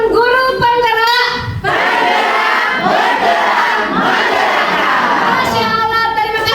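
A school audience at a teacher training session at an elementary school in Bima, Indonesia, breaks into loud applause and excited shouting and cheering, with children's voices prominent, sustained and close throughout.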